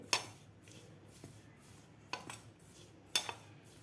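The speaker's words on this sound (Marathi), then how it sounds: "साखरसुद्धा आपल्याला व्यवस्थित मिक्स करून घ्यायची आहे पिठामध्ये" Sugar being mixed into flour in a bowl, heard as a few isolated clinks and scrapes of a spoon against the bowl spaced apart, quiet and close with soft rustling between.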